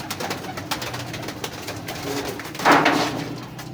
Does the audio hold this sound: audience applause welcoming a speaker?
no